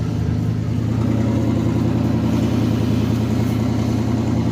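Chevrolet C10 truck engine idling in neutral while warming up, a steady, close, low rumbling drone that holds even and continuous with no talking.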